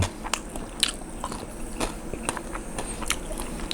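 Crispy pork noodles eaten with chili paste, heard as close, crunchy bites and chewing with sharp crackles scattered through a short stretch.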